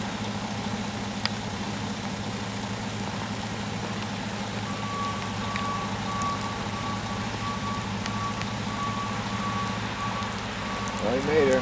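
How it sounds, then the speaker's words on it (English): Salt truck stuck on an icy hill during a Fredericton ice storm, its reversing alarm beeping steadily from a distance over a low idling engine rumble and rain-like hiss, with a rise in engine noise at the end. "You know, it's bad when the salt truck can't get up the road."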